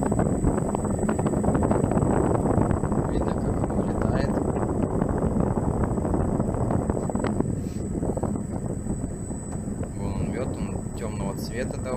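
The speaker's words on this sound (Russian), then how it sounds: "Запустили первый раз в этом сезоне медогонку." A honey extractor spins dark early taiga honey gathered from goutweed at an apiary, giving a steady, close, continuous whirring rumble with a faint high whine throughout, and someone speaks over it.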